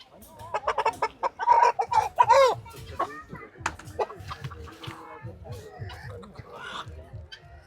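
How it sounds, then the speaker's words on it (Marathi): A large Colombian Brahma rooster at a country-chicken poultry farm clucks repeatedly in close, loud bursts, with people talking over and between the calls. "जगातली सर्वात मोठी कोंबडी कोलंबियन ब्रह्मा"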